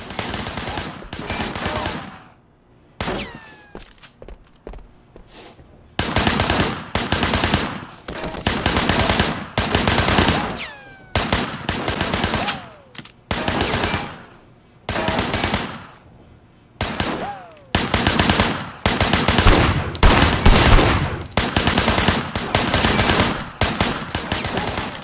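Heavy gunfire in the open-world game Sleeping Dogs: loud, close bursts of automatic shots and single cracks, repeated in clusters with short pauses between them, continuing throughout.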